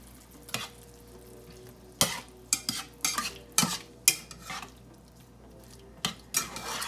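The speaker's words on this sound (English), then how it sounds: "So you need to stir all this up." Minced garlic mixture is stirred in a hot pan with a utensil. Separate scraping strokes come in short bursts, close and fairly loud, over a low, steady sizzle with pauses between them.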